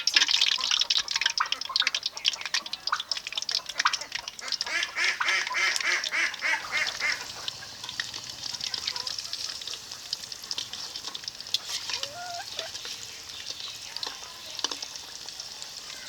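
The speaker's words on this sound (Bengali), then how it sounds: "এখন তেলে দিয়ে ভেজে নেব" Singara (samosas) deep-frying in medium-hot white oil in a wok give a steady, busy crackle and bubbling that stays fairly close and even throughout, a little softer in the second half, with no talking.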